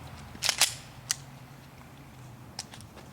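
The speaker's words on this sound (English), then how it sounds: "I'll shoot a couple more." Several sharp Glock pistol shots crack out at a range, two close together near the start, then one more, and a fainter fourth later, each brief and loud over low background hum.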